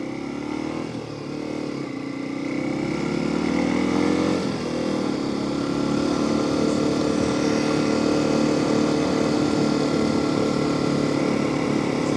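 A Honda XR250 motorcycle riding through the woods, its engine droning steadily and loudly up close with rises in revs as it moves, with no voices.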